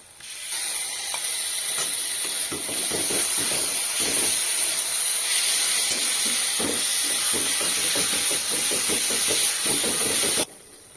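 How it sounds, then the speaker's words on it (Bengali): Tomato and green chili paste sizzles in frying chicken masala, a loud continuous hiss with rapid crackling pops, ending abruptly. "এবার আমি টমেটো আর কাঁচা লঙ্কা বাটাটা দিয়ে দেব"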